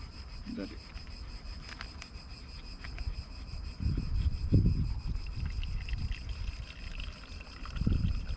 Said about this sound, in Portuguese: utilizamos um pano aqui por cima, então vais despejar aqui a água